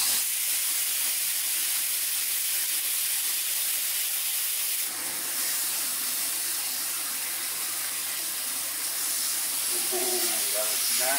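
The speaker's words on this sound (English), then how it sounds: "let's get this ground beef going, baby. Sizzle." Ground beef sizzles loudly and steadily in a hot pan, a continuous hiss with a slight shift in texture midway and a few faint clinks near the end.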